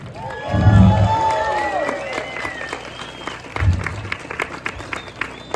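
A theater crowd at a Zapatista community performance claps steadily while cheers and shouted voices rise over it, with two low thumping bursts near the start and middle, the applause continuing throughout.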